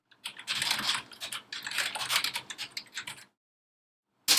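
Rapid typing on a computer keyboard, a close, steady run of light key clicks for about three seconds, then a pause and one more burst at the end.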